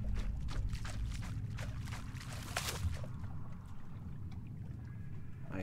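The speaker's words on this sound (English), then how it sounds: "I hate the splashes" Water splashing and sloshing in the flooded tiled pool halls of the horror game The Poolrooms, a run of close splashes in the first half easing into steady watery churn, with no voices.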